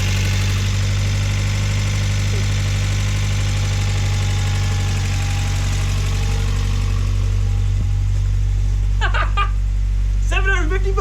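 An old Japanese muscle car engine idles rough, loud and close, with a steady rumbling drone and uneven knocking; voices speak briefly near the end.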